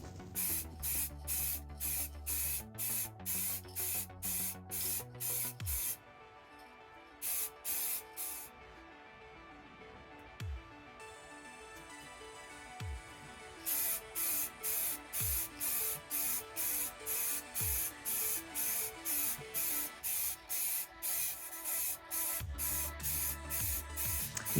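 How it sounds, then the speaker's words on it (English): Short, loud hissing bursts from a spray can lay Ford Diamond White Gloss paint onto a stormtrooper helmet in rapid rhythmic pulses, with a quieter pause midway before the spraying resumes. "we're now applying a coat of the Ford Diamond White Gloss"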